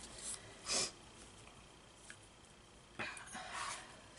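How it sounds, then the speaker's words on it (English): Close, quiet nasal sniffs from a person at a crafting desk, two or three short breathy bursts separated by near-silence. "Sorry about that. And my sniffing."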